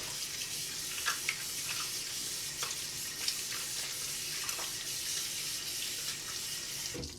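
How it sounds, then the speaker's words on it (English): Water runs steadily from a tap while soap is washed off a fingertip, a constant hiss with occasional small splashes, no talking. "Wash that soap off my fingertip."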